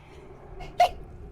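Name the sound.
sneeze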